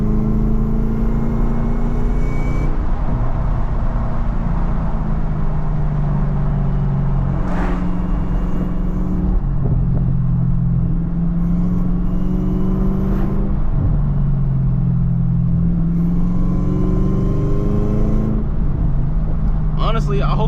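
A Camaro ZL1 with no hood cruises on a road in the rain, its engine rising and falling through repeated shifts as it accelerates. A voice talks over the steady road rumble.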